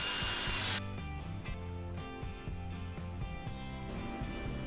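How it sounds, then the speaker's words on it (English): Angle grinder working the edge of a steel butt joint on a utility trailer frame, a steady close whine with a brief harsher burst at the start, running alone. "here I'm just grinding off a little bit of that edge to give some space for the weld to burn"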